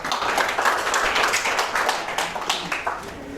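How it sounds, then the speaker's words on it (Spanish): An audience gives lively, close applause to welcome a speaker at a university law lecture. The clapping is dense and uneven and stays loud throughout. "Un aplauso para él"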